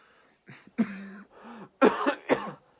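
Several coughs in short bursts, close and fairly loud, with throat-clearing sounds between them and no talking.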